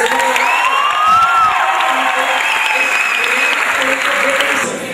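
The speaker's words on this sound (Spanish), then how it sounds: "un aplauso para todos ustedes." Applause and cheering from an outdoor audience at a live radio broadcast in Boca del Río, Veracruz, fill the clip with dense, steady clapping and whoops, loud and close, easing slightly at the end.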